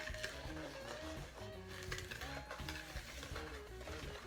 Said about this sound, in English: we're going to add the eggs to the sugar and vegetable oil. We're going to mix this up